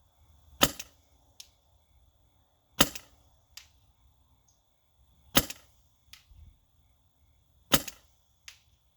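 An MG100 fires single shots at a target outdoors, each a sharp, loud crack with a brief echo, spaced several seconds apart with fainter impacts following.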